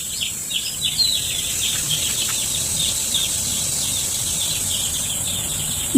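Constant high peeping from a group of one-day-old chicks, soft and overlapping, over a steady background hiss, with a thump at the end.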